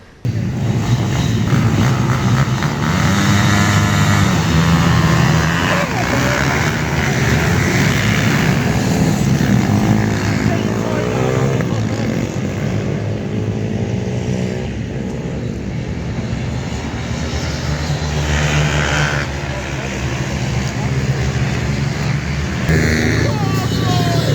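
Pit bike race engines captured onboard at a Stretton summer series race, a loud continuous drone with rising and falling pitch as the bikes accelerate and shift, with a voice speaking over the engine noise.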